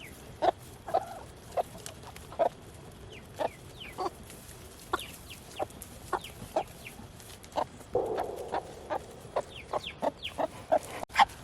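Geese with goslings on a homestead, giving a series of short, sharp peeping and clucking calls at close to medium distance, spaced irregularly over quiet background, with no talking.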